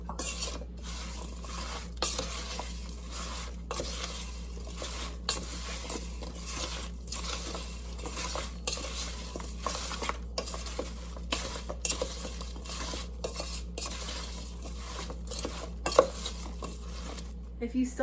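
Apple crisp ingredients with vanilla are stirred together in a bowl, a steady soft scraping with light clinks of a utensil throughout, over a low hum.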